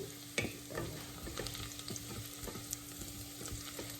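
Garlic fries in a pan for goat adobo, a quiet steady sizzle broken by scattered scraping stirs and a few light knocks of the spatula.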